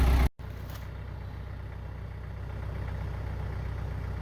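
A tractor engine idles close by beside a stuck truck, a steady, unbroken low rumble after a brief cut at the start, with no voices.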